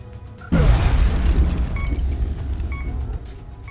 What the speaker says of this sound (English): No, it's a grenade!